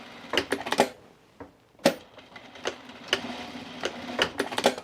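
Sewing machine stitching reinforced seams on trousers, heard up close as short clattering bursts of rapid stitches separated by brief pauses and clicks, with no voices.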